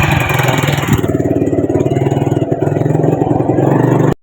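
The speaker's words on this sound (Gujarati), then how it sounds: "બાઇક ચાલુ પણ કરી નાખ્યું હવે ચાલે" A motorcycle engine runs steadily after being started, with a fast, even, pulsing throb held at a constant loud level. It cuts off abruptly at the end, and no one speaks.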